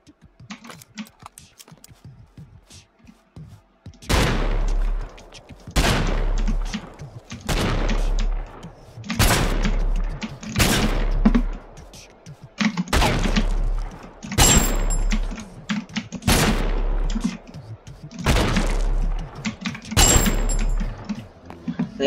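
Carbine gunfire in Battlefield 1, a video game: a sequence of about eight to ten loud, sharp, evenly spaced shots with short pauses between, each followed by a brief decaying tail.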